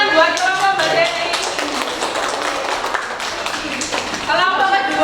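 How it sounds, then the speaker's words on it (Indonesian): Classroom applause for a presenting group, a crowd of hands clapping in a dense steady patter that swells again near the end, with voices talking over it. "Kasih tepuk tangan buat kelompok Mbak Dewi."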